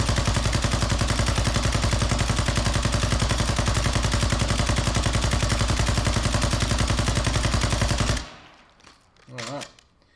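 Sakin MG38 light machine gun in Call of Duty Warzone 2.0 firing one long sustained automatic burst of rapid, evenly spaced loud shots for about eight seconds, then stopping abruptly, followed by brief quieter handling noises.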